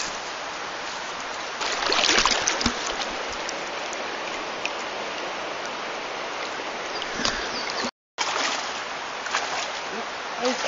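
Steady rushing and splashing water as someone wades across an ice cold mountain stream on a river crossing during a day hike, close and continuous with a brief cut near the end.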